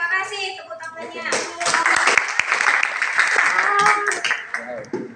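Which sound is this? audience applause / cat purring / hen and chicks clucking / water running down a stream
audience applause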